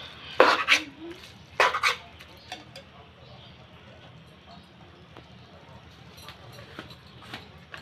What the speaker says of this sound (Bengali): দিয়ে আমি ঘন্টটা একটু সুন্দর করে নেড়ে চেড়ে নেব